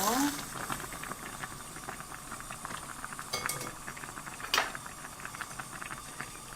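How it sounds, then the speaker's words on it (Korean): Kimchi simmers in a pot for kimchi noodle soup, a soft steady bubbling and hiss with a couple of faint utensil clinks near the middle. "김치를 다 익을 때까지 삶아 주셔야 됩니다"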